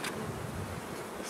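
Honey bees hum in a dense, steady buzz around apiary hives while nests are being reduced for winter, loud and continuous with no voices over it.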